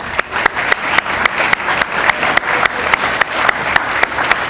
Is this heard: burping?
no